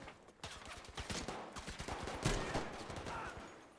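Machine gun fire in a Battlefield V game: rapid bursts of shots rattle in quick succession, fairly faint, with a louder blast midway through.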